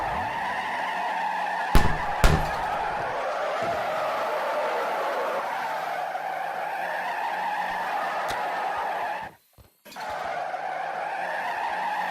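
Sustained tire squeal from a car drifting in CarX Drift Racing Online, a steady continuous screech with engine tone underneath, broken by a couple of sharp knocks and a brief dropout near the end.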